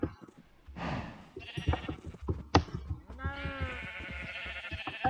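Minecraft sheep bleat in a few short, wavering cries, close and fairly clear, with soft game sounds and footsteps around them.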